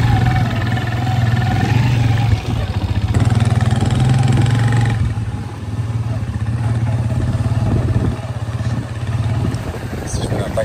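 Small motorcycles set off and ride in Gambia, a close, steady engine drone with rough idling pulses that shifts in tone as the bikes move off and keep going.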